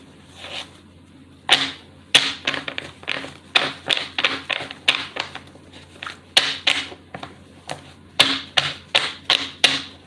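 Tarot cards being shuffled, a quick series of crisp riffling slaps in three bursts, close and fairly loud with no talking.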